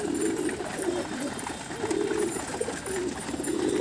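Several pigeons coo steadily and close by while feeding on grain in a home loft, the low rolling calls repeating in waves with faint rustling and no talk.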